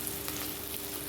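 Chopped tomatoes hit hot oil in a frying pan, giving a steady, quiet sizzle with a faint hiss throughout.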